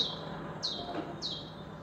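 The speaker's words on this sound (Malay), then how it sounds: "Tengok, burung pun menyanyi." Two short, high bird chirps sound a little over half a second apart outdoors on a fine day, fairly faint against soft background noise.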